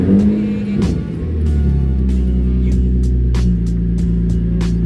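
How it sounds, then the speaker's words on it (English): A Nissan 350Z engine idles close by while warming up, a loud steady low rumble that settles after a brief shift in pitch, with a few faint clicks over it. "We'll start up the car and we'll let it warm up"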